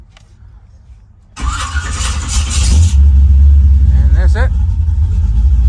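A car engine cranks and catches after a quiet start, then settles into a loud, steady, close idle rumble, while people talk briefly over it.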